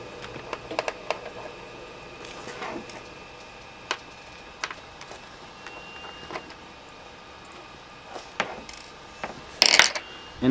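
Small screws being backed out of a Sony Vaio laptop's CD drive bay: faint, scattered metallic clicks and ratcheting ticks of a screwdriver, close up and quiet, with a brief louder rattle near the end and no talking.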